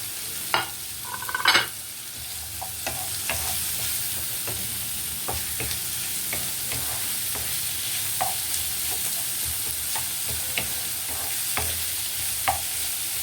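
Onion, sweet peppers and chicken frying together in a pan, with steady broadband sizzle and repeated scraping stirs and utensil clacks against the pan, close and continuous, with no talking.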